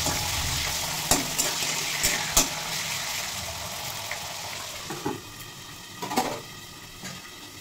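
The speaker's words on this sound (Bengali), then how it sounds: "চামড়া শুদ্ধ যে চিকেনের কিমাগুলো নিয়েছি সেটাই আমি এখন এই তেলে ভেজে নেব" Skin-on chicken mince sizzles steadily in hot oil in a home kitchen, a continuous bright hiss with scattered louder pops and a few scraping stirs, close and alone without talk.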